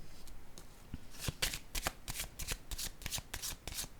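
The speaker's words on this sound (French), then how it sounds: "Je vais déposer une autre carte ici." Cards handled on a table during a French-language tarot-style reading, a run of crisp papery flicks and slaps, close and fairly loud, repeating in quick irregular bursts with no talking.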